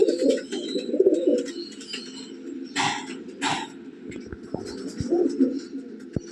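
Teddy pigeons in a loft give low, repeated cooing calls close by, in several rolling bursts, with brief noisy rustles of wings or handling between them.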